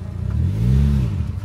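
A learner driver's car engine revs up as she presses the accelerator, a loud, close, steady low rumble swelling and holding for about a second and a half with no talk over it.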